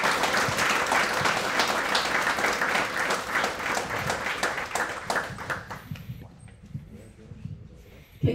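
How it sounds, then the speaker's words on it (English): Audience applause ringing out for a scholarship winner at a community college national signing day ceremony, dense sustained clapping that fades out near the end. "Please help us in giving him a round of applause."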